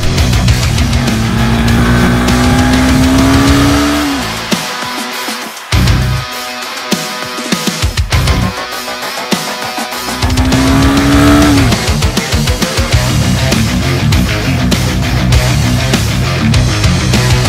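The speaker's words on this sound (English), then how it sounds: "Hard revving power." A Honda Hornet 200R motorcycle engine revs hard and high, dropping briefly mid-way before climbing again, continuous and close with strong mechanical roar throughout.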